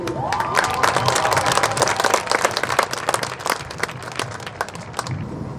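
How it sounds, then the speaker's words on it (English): Applause for a graduate at a Pomona High School graduation ceremony in Arvada, Colorado: steady, fairly loud crowd clapping with scattered cheers and shouts, sustained throughout with no speech over it. "maybe you could applaud for your graduate"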